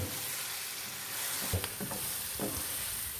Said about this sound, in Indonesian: Nah, kita tumis dia sampai harum, sampai terasa harum.